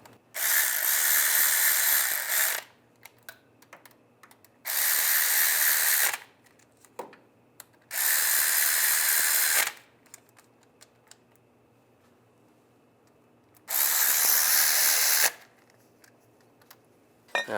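Bolts being tightened on a 1999-2005 Volkswagen Jetta water pump with a power tool, four loud whirring bursts of about two seconds each separated by quiet gaps with faint clicks and handling noises.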